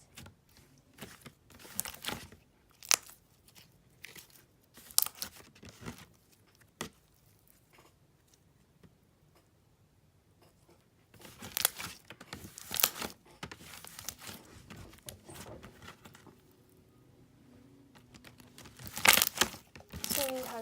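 Ice-cream-textured slime with a clicky base and java chips is squished by hand close up, giving soft crinkly clicks and small bubble pops in scattered bursts, quiet overall.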